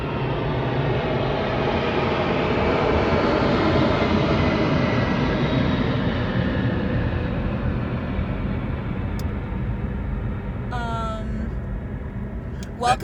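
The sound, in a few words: low-flying airplane passing over near an airport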